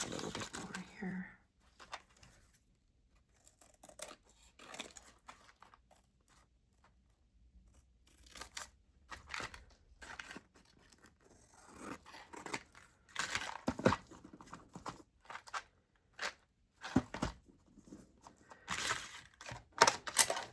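Paper is cut and handled while making a Christmas matchbox, giving scattered snips, crinkles and rustles in short bursts, fairly faint and close, with pauses in between.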